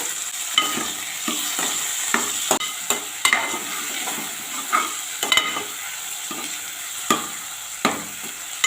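Chopped onions and tomatoes frying in oil for a dried fish curry, a steady bright sizzle with scattered stirring scrapes and soft taps, close and fairly loud, no talking.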